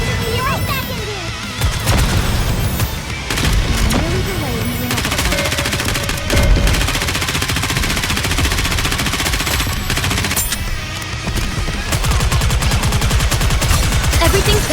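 Dense, rapid automatic gunfire and heavy impacts in the video game Nikke: Goddess of Victory, loud and nearly continuous with bursts and booms, while voices speak over the battle.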